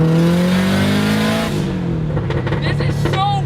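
A Mazda Miata with a swapped K24 four-cylinder engine from an Acura TSX revs hard and loud up close. The engine note climbs steadily, then eases off into lighter throttle blips and a falling whine.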